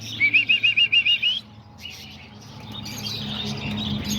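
Homing and roller pigeons flying around a rooftop loft, with a burst of rapid, rhythmic bird chirping at first, then softer wing and ambient rustle under steady background hum.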